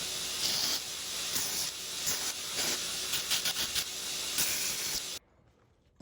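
A belt grinder fitted with a brand new 24 grit belt bites into steel, producing a loud, continuous rough hiss with rhythmic surges as the workpiece is pressed. It cuts off abruptly near the end, leaving near silence.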